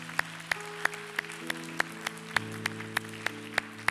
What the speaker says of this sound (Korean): 우리 다시 한번 큰 박수로 감사와 영광의 박수 올려드리겠습니다